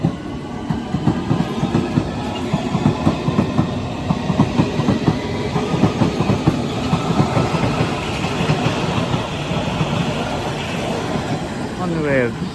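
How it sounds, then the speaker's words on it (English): A C2C Class 357 electric multiple unit pulls away from Barking station, its wheels giving a steady rhythmic clatter over the rails with low rumbling motor noise, close and continuous throughout. "Departing now is the 1013 C2C service to London Fenchurch Street, 357205."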